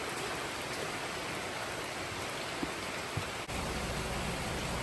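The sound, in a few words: heavy rainstorm at night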